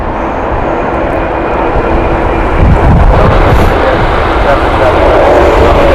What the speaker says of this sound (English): Right, Islamabad flight inbound next from British Airways.